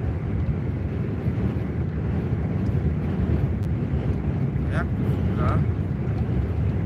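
Wind buffeting the microphone, likely on a truck journey between Benešov and Hradec Králové, a constant low rumbling roar throughout.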